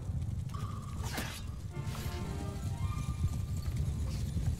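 Horse hooves clip-clop at a steady gait in the medieval combat game Mount and Blade 2, fairly faint and continuous beneath low rumbling ambience, with a brief swish partway through.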